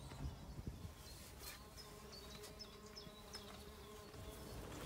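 Bees, hoverflies and other insects buzz around flowering willows in the De Zegge nature reserve in Geel, a faint, continuous layered hum with individual insects droning past up close now and then.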